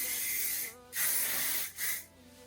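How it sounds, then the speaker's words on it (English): Holding hairspray hisses onto hair in three bursts: a long spray, a short pause, another long spray, then a brief final puff, all close and loud. "Don't be afraid of adding a lot of holding spray."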